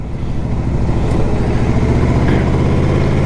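A 2006 Yamaha Royal Star Deluxe motorcycle is ridden, its engine a loud, steady, close rumble with a throbbing low drone that holds constant throughout.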